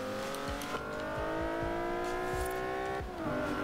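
A Cadillac XTS Limousine engine in Forza Horizon 4 holds a high, strained tone bouncing against its rev limiter. Rapid cutout pulses repeat throughout, with a brief dip in pitch near the end.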